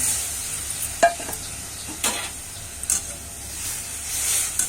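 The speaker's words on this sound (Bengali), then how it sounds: "ভালো করে একটু নাড়িয়ে চাড়িয়ে নেব" Okra frying in a pan is stirred together with boiled red lentils: a steady soft sizzle and hiss with a few sharper scrapes and clacks of the spoon at irregular intervals, close by.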